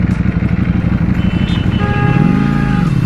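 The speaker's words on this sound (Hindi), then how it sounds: "तो बाइक है स्मूथ, V4 की आवाज़ काफ़ी डिफरेंट आ रही होगी आपको।" A Ducati Panigale V4 sport bike rides on an open road, its engine a loud, close, continuous drone that rises in pitch as the rider accelerates toward the end.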